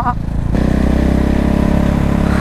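KTM SMC R 690 motorcycle riding with its dB killer fallen out of the exhaust: a loud, close, throbbing engine roar that jumps up sharply after a brief quieter start and holds steady.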